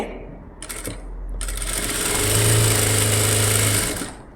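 A sewing machine stitching a double seam along a blouse cup dart, a couple of short starts followed by a steady whirring run of a few seconds that then winds down, close and clear.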